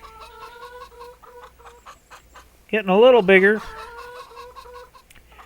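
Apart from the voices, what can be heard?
chickens clucking in a video game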